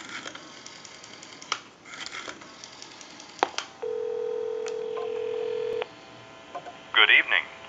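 A Wedgwood Jasper rotary desk telephone dialing a call, with faint clicks and knocks, then a sustained steady tone, then a short burst of louder sound at the end.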